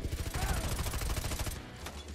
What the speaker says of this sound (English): that guy has a fucking machine gun or something